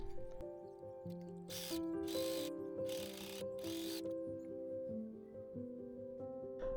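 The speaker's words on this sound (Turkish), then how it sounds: "Dikiş paylarına overlock çekiyorum." An overlock serger finishing the shoulder seam allowances of a midi dress runs in four short whirring bursts, each about half a second, set beneath steady background music.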